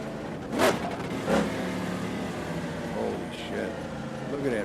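A nice car's engine runs steadily with a couple of short revving bursts near the start, close by, while people talk over it.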